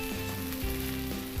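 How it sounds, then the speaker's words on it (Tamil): Sliced okra sizzles in hot oil, a dense crackling hiss with a few stirring scrapes. "நான் வெண்டைக்காவை நல்லா வதக்கி எடுத்துக்கிறேன்"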